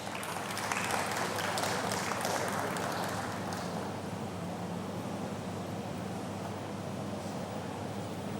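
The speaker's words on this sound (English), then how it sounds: "A round of applause for Gloria Agboifo." Audience applause at a fintech conference in Nigeria: a dense wash of clapping that swells at first and then fades to a softer, steady patter, heard at a distance and fairly faint.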